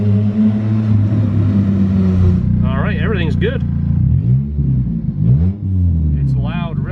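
A Honda Civic EG hatch engine runs with no exhaust fitted, a loud raw drone that rises and falls with blips of the throttle, while someone speaks briefly over it.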